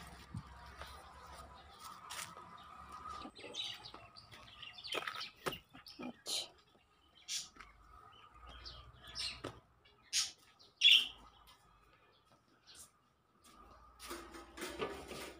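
Scattered bird chirps and tweets come in short bursts over quiet background noise, some close and sharp, others fainter.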